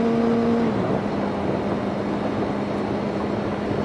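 A Suzuki GSXR sport motorcycle on an open road holds a steady loud engine drone with rushing wind; the engine note drops briefly as it shifts up into fourth gear, then settles into a lower hum.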